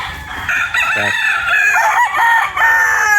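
White Kelso gamefowl stags on a farm crow loudly and close, with clucking and other fowl calls overlapping in a busy barnyard chorus.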